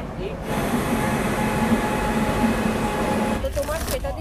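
Howrah–NJP Shatabdi Express, train 12041, runs with a steady rumbling roar and a constant cabin hum inside the coach, with a voice briefly heard near the end.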